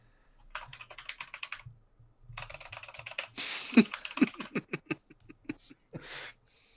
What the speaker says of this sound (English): Finally, a use for my keyboard.